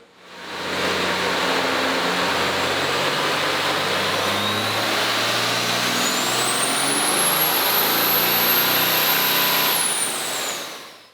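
A 1,118 hp 2005 truck engine revs hard on a dyno, a loud, sustained roar with a rising high whine that climbs steadily and then drops off as the pull ends.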